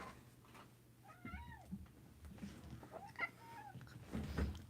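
A pet cat gives several short, rising meows and chirps in a quiet indoor room, close but soft, spread out with pauses between calls and a few light rustles.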